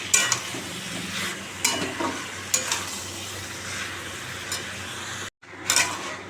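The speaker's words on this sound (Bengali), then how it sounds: "আমি গরম জল দিয়ে একটু একটু করে গরম জল দিয়ে দিয়ে কষাচ্ছি" Chicken meat fries in a pan as hot water is added a little at a time. A low sizzle runs under several sharp stirring scrapes, and a brief cut near the end drops everything to silence before the stirring resumes.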